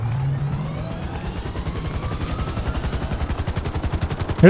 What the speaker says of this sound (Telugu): తీసుకెళ్ళిపోతున్నాడు హెలికాప్టర్